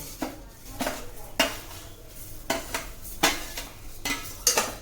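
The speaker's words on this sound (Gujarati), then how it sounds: "એટલે આપણે તેમાં ધોયા વગરના રાઈસ નાખીશું." Unwashed rice tipped into a cooking pot for rajma chawal, heard as a run of dry rattling pours and scraping clinks against the pot, with occasional stirring, close and fairly loud, no talking.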